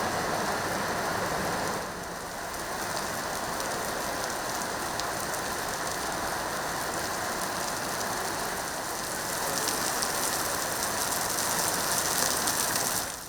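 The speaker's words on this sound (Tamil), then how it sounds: "சென்னை மற்றும் சென்னை புறநகர் பகுதிகளில் தற்பொழுது பல்வேறு இடங்களில் கனமழை என்பது பெய்து வருகிறது." Heavy rain pours steadily over Chennai's Royapettah area, a dense, continuous hiss of water hitting surfaces that holds at a constant loud level throughout, with no voices.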